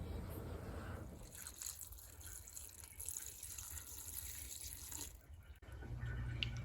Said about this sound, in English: to this I'm going to add just enough water to cover the dandelions completely.